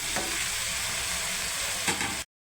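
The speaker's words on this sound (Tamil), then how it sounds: "அதே மாதிரி நம்ம கட் பண்ணி வச்சிருந்த டொமேட்டோஸ் போட்டுக்கலாம்." Chopped tomatoes tumble into a hot frying pan for a Tamil-style chicken dish, setting off a steady, close sizzle of frying that runs unbroken for about two seconds with a couple of brief stirring scrapes.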